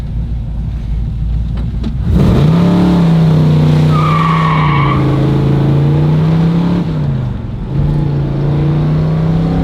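A 1968 Chevrolet Camaro SS accelerates hard, its engine surging to a loud sustained roar heard from close by, with a brief dip like a gear change before it pulls again.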